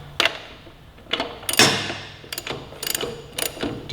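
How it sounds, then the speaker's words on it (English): Ratchet tightening the rear axle nut on a 2018-2023 Kawasaki Ninja 400 motorcycle, loud close bursts of rapid clicking pawl strokes with short pauses between them. "We'll then take the ratchet while I'm holding the tire"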